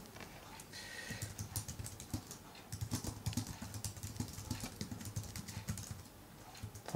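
Typing on a physical keyboard connected to an iPhone: a steady run of close, crisp key clicks and clacks with uneven rhythm, alone with no voices.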